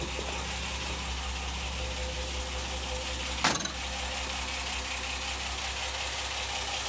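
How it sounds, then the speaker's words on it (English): A 3.0-litre V6 in a South African-market Ford Granada 3.0GL idles with a steady, even hum, continuous and close, with one brief louder knock midway and no talking. "There's the 3 litre V6"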